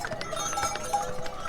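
Horses walk along a mountain trail on the pilgrimage route to Kedarnath, their hooves clip-clopping in a light irregular rhythm at close to middle distance over steady outdoor background noise.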